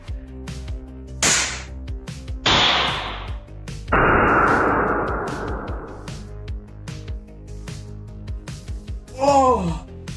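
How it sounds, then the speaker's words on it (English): Silver nitride detonates in a few sharp cracks, the third loudest with a long ringing tail, followed by a startled vocal yelp. "we can actually make a purposeful explosion."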